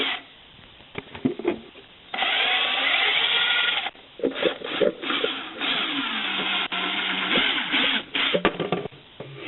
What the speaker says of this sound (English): I've just got to drill one hole in the bottom of here, the bottom of our bleach container.